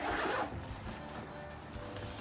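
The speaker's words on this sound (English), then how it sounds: "Oh, there's a zipper here." A zipper on a JuJuBe XY Hatch bag runs in one quick, close pull at the start, then the handling fades to quieter rustling.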